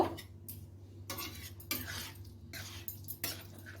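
Cucumber shukto is tipped from a metal pan into a serving dish, giving repeated close scraping and clinking of utensil against pan in short bursts, with nothing else heard.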